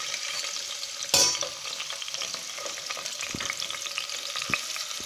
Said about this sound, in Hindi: गैस फ्लेम को मीडियम रखना है और ऑनियंस को 1 से 2 मिनट के लिए फ्राई करना है